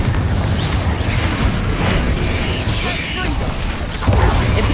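Confringo blast curse explosions from a Harry Potter video game, a loud, continuous roar of booming blasts and crashing bursts filling the whole clip, with a heavier burst near the end.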